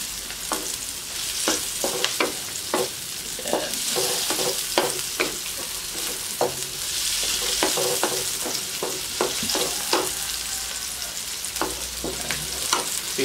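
Native chicken adobo frying in a pan under repeated stirring, with rhythmic scrapes and taps of the utensil over a steady close sizzle.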